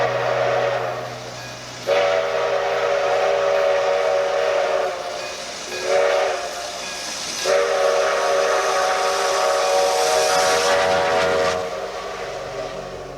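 The whistle of Grand Trunk Western steam locomotive 4070 blows loud and close in several long blasts with short breaks, over a constant hiss of steam.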